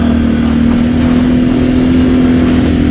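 A Can-Am off-road vehicle's engine drones loud and close, holding a strong, steady hum under the throttle for the whole stretch with no voices.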